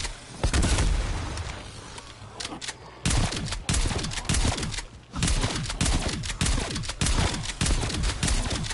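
Shotgun blasts in Call of Duty zombies, loud repeated heavy shots in quick bursts with short pauses, mixed with other gunfire and game effects throughout.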